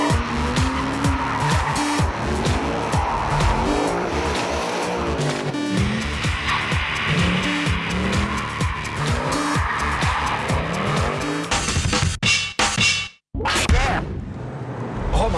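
Mercedes SL 63 AMG roadster lapping a rain-soaked race circuit, its engine revving and shifting loudly up close with tire squeal and skidding, voices talking over it, then a brief dropout before the run resumes.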